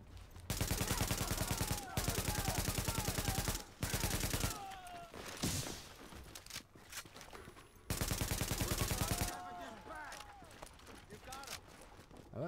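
Rapid bursts of automatic gunfire in the video game Tom Clancy's The Division, several sustained volleys separated by short pauses, loud and close, with voices talking between bursts.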